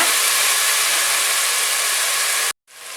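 Tomatoes sautéing in a hot pan for mushroom biryani give off a loud, steady, close hiss that cuts out abruptly near the end before resuming faintly.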